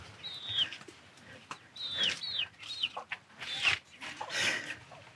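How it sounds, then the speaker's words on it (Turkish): Several short clucks and chirps from chickens on a small village farm, scattered across the clip with brief pauses, fairly close and moderately loud. "Burada tavuklarımız var."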